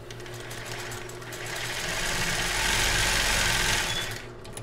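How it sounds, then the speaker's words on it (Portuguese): A sewing machine stitching a children's bra runs steadily, its motor whirring at a close, even pace that rises slightly in speed mid-run before stopping, heard alone without talk. "Já vou costurar o outro lado, porque depois eu vou mudar o ponto para o zigue-zague"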